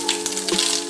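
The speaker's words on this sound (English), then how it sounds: "These shits are popping now. That's because of the pan." Egg frying for a breakfast sandwich in a pan, giving a steady close sizzle with small pops and crackles, with a faint hum underneath and no talking.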